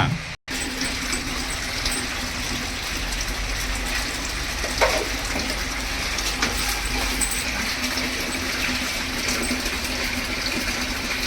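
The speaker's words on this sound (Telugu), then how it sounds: "ఇంకా వాటర్ వేసుకో" Water pours and splashes continuously while a German shepherd dog is bathed, a steady wash of sound with a few faint knocks and no speech.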